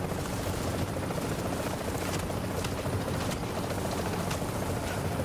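A helicopter in the video game The Division gives a loud, continuous rotor roar with a dense, unbroken wash of noise and no talking.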